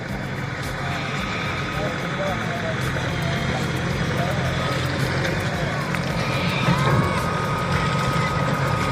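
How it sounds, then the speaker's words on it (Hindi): Vehicle traffic moving steadily along an NH highway next to railway station construction works, a continuous mix of engine rumble and passing vehicles at moderate distance with no pauses. "ये जो है NH रोड है, ये जो देख रहे हैं गाड़ी का आवाजाही जो है जी।"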